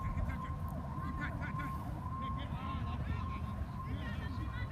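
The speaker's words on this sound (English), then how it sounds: "all those sirens you hear in the background are not for this game" Faint wailing emergency vehicle sirens rise and fall in the distance beneath steady crowd noise and a talking voice at a college women's soccer game.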